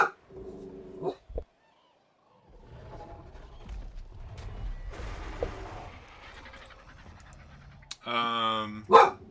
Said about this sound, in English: There's the mystical Leon barking, actually.